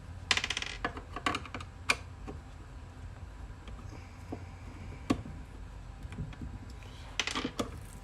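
Screws being removed from the corners of a speaker in a BMW E36 car door, heard as scattered close clicks, ticks and small metallic taps with short quiet gaps between them.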